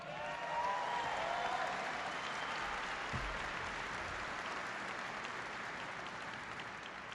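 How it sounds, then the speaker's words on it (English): Large audience at an evening event honoring military service members bursts into sustained applause, dense and steady throughout, slightly distant and easing off toward the end. "So give them a big round of applause"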